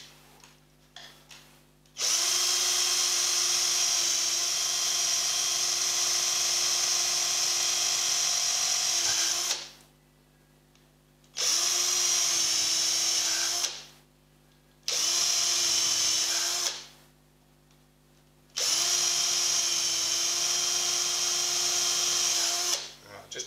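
Power drill boring a series of pilot holes in a double-neck guitar body, four long high whining bursts separated by short pauses, close and loud, with some talk in the quiet gaps.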